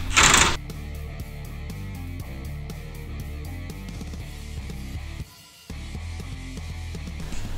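Ratchet wrench with an 11/16 socket tightening the top bolts of a spare tire rack on a Polaris RZR 900 or 1000S, a quick run of close clicking strokes over a steady tonal background.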